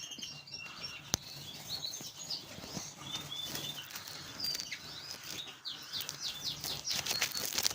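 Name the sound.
cock and hen chaffinches calling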